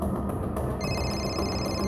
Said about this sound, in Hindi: सर, नेहा का फोन